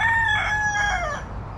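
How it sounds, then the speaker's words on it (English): A rooster crows once on Grand Cayman on a Saturday morning, a loud, drawn-out call lasting over a second, with a low steady hum in the background. "Chickens are still howling as always."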